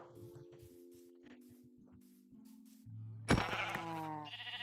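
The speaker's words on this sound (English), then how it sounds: "Sheep!" Minecraft sheep bleats sound twice in a video game scene, over steady background music, the second bleat louder and nearer near the end.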